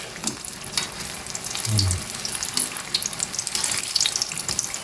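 Eggplant slices frying in hot oil give a steady sizzling crackle with some clinks and stirring sounds mixed in, close up and continuous.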